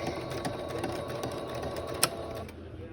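A sewing machine stitching fabric lining, a quiet rapid mechanical whirring with a faint rhythmic needle clatter, a sharp click near the end, then the motor stops.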